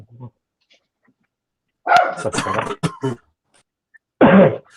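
A dog gives a few short, close barks and gruff throaty sounds in separate bursts, with quiet gaps between them.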